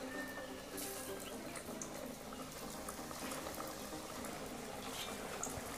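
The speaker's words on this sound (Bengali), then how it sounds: "এই দেখুন গরম তেলের মধ্যে একটা পিঠা দিয়ে দিলাম।" Filled pitha snacks dropped into hot oil for deep frying, a continuous bubbling hiss and crackle that holds steady and close without talk.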